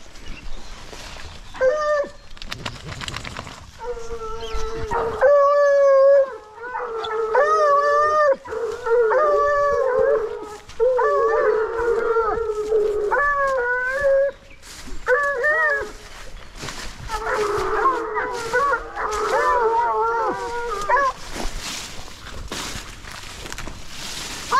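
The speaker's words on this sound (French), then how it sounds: "Regardez le chien." A hunting dog bays during a wild boar hunt at the opening of the 2023/2024 season, loud repeated howling yelps in bursts with brief pauses, close by in open woodland.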